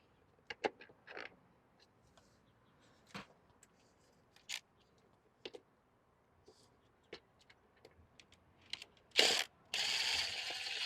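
Tightening a backyard light fixture against a wall gives a run of short, separate ratcheting clicks and knocks spread over several seconds, then a louder scrape and a burst of steady rustling noise at the end.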